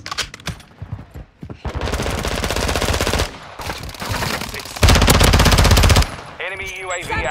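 Rapid automatic gunfire in a first-person shooter match, loud, close bursts separated by short pauses, with game effects and a player talking in between.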